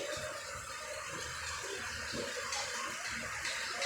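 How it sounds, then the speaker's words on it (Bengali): Steady, dense hiss of heavy rain pouring down without pause, a continuous wash of water noise with no voices. "আমি জানি আপনার শব্দ শুনেই বুঝতে পারবেন কি পরিমাণে বৃষ্টি হচ্ছে"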